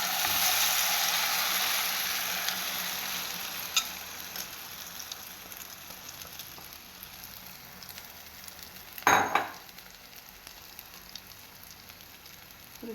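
Omelette batter sizzles steadily in hot oil in a pan, a continuous bright frying hiss throughout with a brief louder crackle near the end, no talk.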